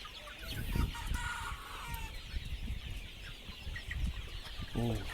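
Hens and a white rooster cluck in a poultry pen among white chicks, with a steady run of close, busy clucks and short squawks and a brief crow-like call near the end.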